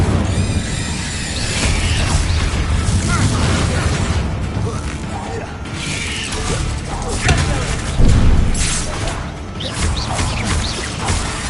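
Incendio fire spell cast in the Hogwarts Legacy game, a dense roaring burst of crackling fire and booming impacts that fills the whole span, loud and continuous with swells and sharp hits near the end.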